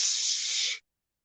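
A voice imitating a perfume spray, one steady breathy hiss held for under a second and then cut off into silence.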